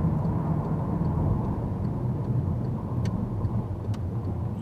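A car drives through the town-centre streets of Treuen in the Vogtland, its steady broadband road and engine rumble continuous and fairly loud throughout, with a couple of faint ticks on top.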